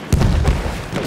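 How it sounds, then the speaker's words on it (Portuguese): A grenade blast in the Battlefield 1 assault at Fao Fortress, a sudden loud boom near the start that rolls into a rumbling low tail, with a second thump midway through. "Lá foi granada!"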